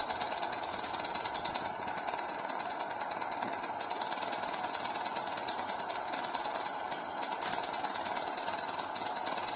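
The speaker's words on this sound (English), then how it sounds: "that's what's causing the ratchet sound" A capacitive ion propulsion device running steadily, giving a continuous buzzing, rattling ratchet-like drone at constant level throughout, with dense high-pitched crackle and no speech.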